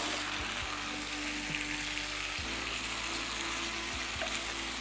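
Chicken and capsicum sizzle and fry in a pan, with a spoon stirring and scraping at a few points along the way; the steady crackle is soft and close.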